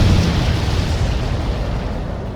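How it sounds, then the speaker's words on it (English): Missile explosion in the Ace Combat 7 flight combat game, a loud sustained roaring blast with heavy low rumble that holds steady before tapering slightly, no voices. "Missile hit its target. Everybody, keep a safe distance to avoid getting caught in the explosion."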